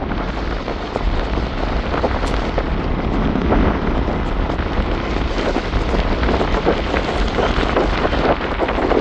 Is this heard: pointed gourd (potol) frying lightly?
no